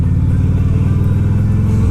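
A motorcycle being ridden, giving a loud, steady, close engine rumble with a fast pulsing beat and no talking over it.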